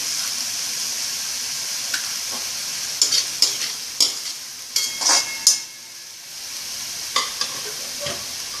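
Onions and tomatoes with a pinch of salt sauté in a hot pan, a steady sizzle broken by a few sharp scrapes and stirring knocks of a spoon against the metal, close and fairly loud with no voices.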